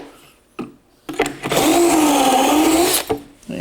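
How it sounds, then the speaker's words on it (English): A drill boring pocket holes into a wooden shelf with a Kreg jig: short bursts, then a loud sustained whirring bite about a second and a half long that winds down, close up with no talk. "So I want to put pocket holes here as well."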